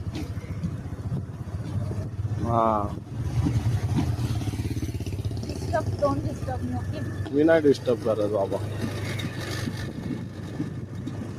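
A motorbike is ridden along a village road, its engine giving a steady low hum throughout while people talk over it.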